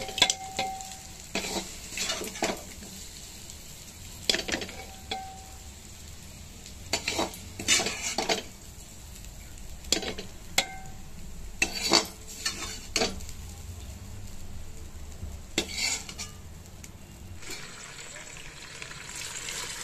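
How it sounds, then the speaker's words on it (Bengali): Pieces of cooked mutton are scraped and spooned from a pan into a pressure cooker, with repeated short metallic clanks and scrapes over a faint sizzle. "সবটা মাংস আমি প্রেসার কুকারে তুলে নিচ্ছি।"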